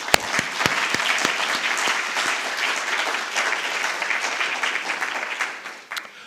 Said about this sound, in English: please give a round of applause to the amazing staff